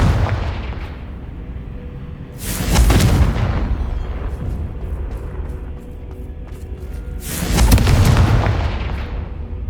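Confringo fire spell explosions in the video game Hogwarts Legacy: two loud, booming blasts several seconds apart, each a sharp burst that decays into a rumbling tail over lower background ambience.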